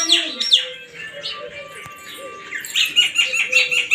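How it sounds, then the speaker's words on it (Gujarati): House sparrows chirp in the morning around a village home, bright short calls repeating irregularly and fairly close over a quiet background. "સવારમાં ચકલીઓ આવી ગઈ છે।"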